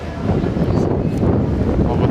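Wind blows steadily outdoors in Prague, a continuous broadband rush and rumble buffeting the microphone for the whole stretch.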